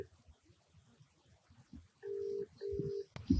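Phone keypad tones beep as a call is dialed, two long steady tones in a row followed by a short click, loud and clear over faint background noise.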